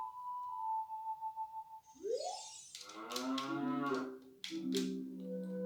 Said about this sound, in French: une grosse vache en image